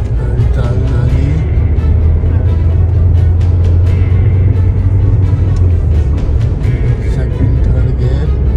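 A car drives along with its engine giving a steady, loud low rumble throughout, carrying an even drone without clear breaks.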